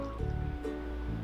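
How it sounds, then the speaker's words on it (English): Milk poured into a measuring cup, heard as a steady close liquid pour with a brief splashing stream throughout, no talking. "Let's try to measure 1 cup of milk. Let me pour in 1 cup."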